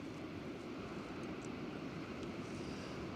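Distant ocean waves roll onto a beach as a faint, continuous wash of surf, steady with no distinct breakers and no voices.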